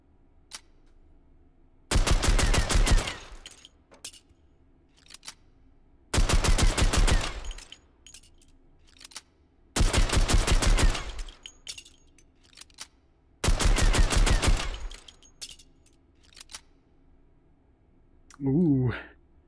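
Automatic gunfire from a firearm in the Hot Dogs, Horseshoes & Hand Grenades VR game: four loud sustained bursts of rapid shots, each lasting about two seconds, separated by brief pauses filled with faint clicks and handling noises.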